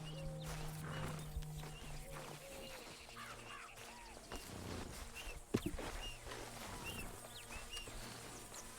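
A horse in Red Dead Redemption 2 snorts and shifts with soft hoof clops amid quiet outdoor ambience and birds, faint throughout, with someone speaking over it.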